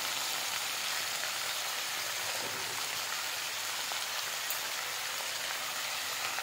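Mixed vegetables (cauliflower, potato, peas, eggplant) with fenugreek frying in a pan, a steady, even sizzle that stays close and constant with no talking.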